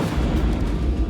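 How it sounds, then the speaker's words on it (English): A demolition blast goes off at two tower blocks, a loud, deep, sustained boom and rumble filling the whole moment, with no voices. "At the allotted time, big noise, big explosion,"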